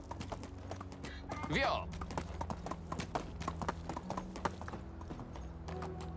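Horse hooves clip-clop in a steady, close rhythm while riding in the Medieval Dynasty video game, continuing throughout with a brief spoken word over it.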